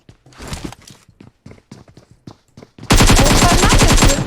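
Rapid automatic gunfire bursts out in the PUBG Mobile video game after quieter footsteps and small sounds, a loud dense rattle of shots that runs steadily to the end.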